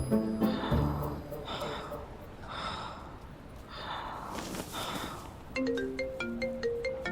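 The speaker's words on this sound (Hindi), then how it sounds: "मैंने उसके पिंकी लिप्स से अपने लिप्स बस टच किए थे कि फोन बज गया।" Soft sighs and heavy breaths give way to a mobile phone ringtone, a bright melodic run of repeating tones that starts near the end and plays loudly.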